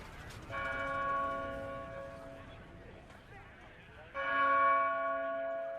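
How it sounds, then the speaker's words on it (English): Trinity Church bells toll in the financial district, a sustained ringing peal with rich harmonic overtones that swells, fades into background murmur, then strikes again louder near the end. "As the bells of Trinity Church began to toll"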